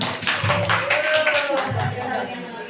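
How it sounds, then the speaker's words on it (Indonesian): Brief burst of classroom applause, a group of people clapping fairly close, with voices mixed in under the claps. "Kita beri aplaus."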